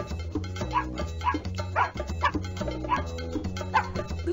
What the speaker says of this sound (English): Look at all the puppies!